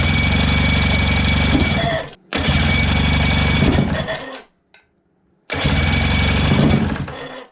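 A Johnson 35hp outboard motor that sat unused for 15 years is started and runs in loud, buzzing, close bursts, cutting out twice with brief silences between runs.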